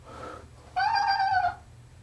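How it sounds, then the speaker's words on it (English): A domestic cat answers a human yodel with a single clear, drawn-out meow, close and moderately loud, preceded by a brief softer vocal sound over a low steady hum. "Cat yodel success."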